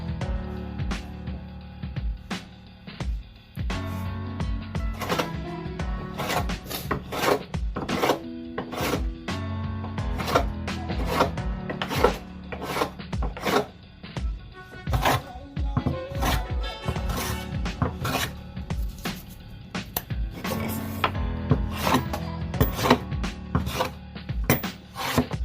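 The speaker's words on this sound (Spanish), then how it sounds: "voy a cortar todas las piezas y después voy a cepillar a mano" Wood being cut and then hand planed for plant pot feet, steady close rasping strokes in a busy rhythm, with occasional sharper knocks and no speech.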